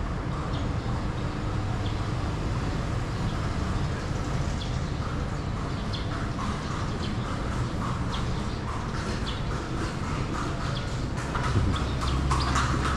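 Horse hooves clip-clop along a cobbled heritage street, Calle Crisologo in Vigan, Ilocos Sur, Philippines, as a steady rhythm of light knocks sits inside dense street ambience with birds and a crowd.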